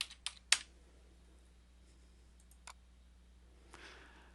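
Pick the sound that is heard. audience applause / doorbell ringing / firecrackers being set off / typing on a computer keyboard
typing on a computer keyboard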